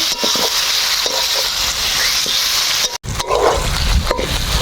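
Chicken fat frying with spices in a pan for ghugni gives a loud, continuous close-up sizzle with a few stirring scrapes and one brief break partway through.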